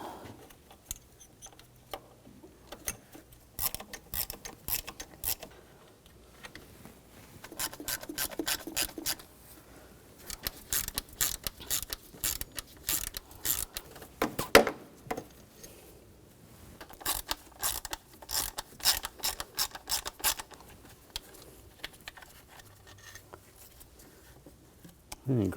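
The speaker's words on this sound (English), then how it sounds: "we're going to take the bolts out" A ratchet with a T30 socket backs out the throttle body bolts on an Audi quattro. Close bursts of quick ratcheting clicks come in spurts separated by short pauses, over roughly twenty-five seconds.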